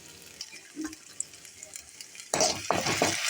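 Crushed ginger, garlic, pepper and cumin sauté in a hot pan, a quiet start giving way to a loud, steady sizzle and frying crackle from about the midpoint, close up with no talk.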